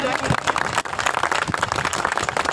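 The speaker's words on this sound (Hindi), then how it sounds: "जोरदार तालियां हो जाए।" Dense, loud applause from a crowd at the inauguration of a news office branch, a steady wash of many hands clapping close by with no break.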